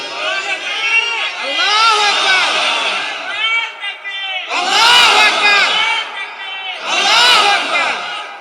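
A large crowd at an Islamic religious sermon gathering in Bangladesh shouts slogans in unison, loud and near, in three surging bursts with short pauses between them.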